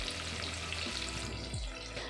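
Onions frying in oil in a pan for pulao, giving a steady, continuous sizzle throughout, close and moderately loud, with a brief stirring scrape near the end and no talking.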